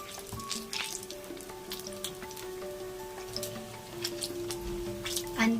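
Egg bonda fritters deep fry in hot oil over a high flame, giving a soft continuous sizzle dotted with crackles and pops, with some background tones and no speech.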